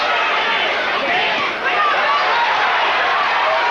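A raucous fight crowd in a Las Vegas arena at a kickboxing bout, a dense continuous roar of cheering and chatter with no breaks.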